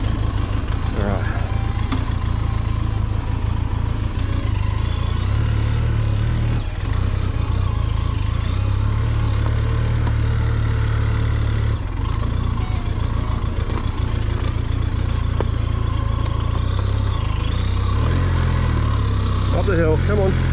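A motorcycle engine drones steadily and loudly through a ride, its low rumble constant throughout, with a rider talking over it and wind buffeting.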